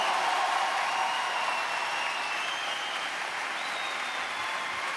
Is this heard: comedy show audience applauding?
yes